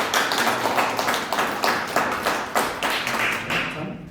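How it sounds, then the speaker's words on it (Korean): A church congregation applauding for God during a Sunday service, a steady run of claps rolling through about eight soft pulses, fairly close and even, with no talk over it. "우리 박수로 하나님께"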